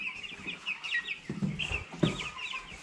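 Broiler chicks in a brooder cheep and cluck in bright, repeated chirps, with a few lower fluttering rustles partway through.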